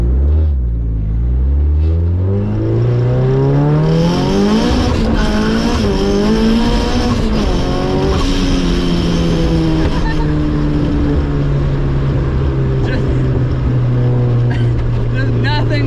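A 1983 Toyota Corolla with an S13 SR20 engine spins its wheels: a loud, sustained engine roar rises in pitch and holds high, close up, with tire wheelspin mixed into the din.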